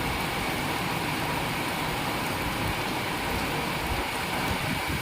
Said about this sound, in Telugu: తాటిపత్రిలో ఎంత వర్షం వస్తుందో చూడండి.